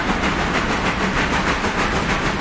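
Steam locomotive engine in the Railroader train game, running steadily with a loud continuous chuffing roar and hiss, rhythmic pulses throughout, no voices.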